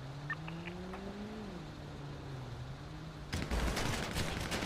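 Gunfire in GTA 5 roleplay bursts in near the end as a rapid rattling volley, following a car engine humming with shifting pitch, no talk.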